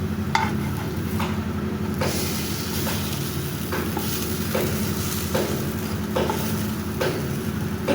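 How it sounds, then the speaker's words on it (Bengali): Pumpkin-leaf fritters fry in a small amount of oil under a steady, close sizzle, with soft scrapes of a spatula coming at regular intervals and no voices. "এরকম অল্প তেল দিয়েই ভেজে নিব"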